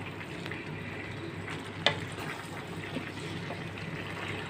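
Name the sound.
sautéing onion and garlic in a pan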